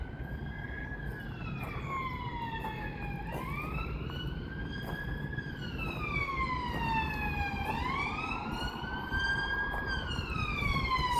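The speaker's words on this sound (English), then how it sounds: "It's a police car." A police car siren wails in repeated rising and falling sweeps, fairly distant at first and growing slightly louder as it passes, heard over faint street ambience.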